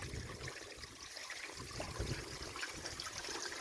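Water from a garden hose is back-flushing the heater matrix of a Sprinter van, a steady, close, rushing flow that runs without a break.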